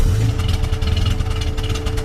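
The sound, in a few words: slant-six car engine sound effect in Pixar's Cars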